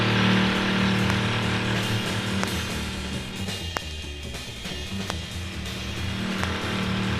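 A 1965 Pontiac GTO runs at 110 mph on a circular proving-ground test track, a sustained engine and road roar with a few sharp clicks and thumps, no voices.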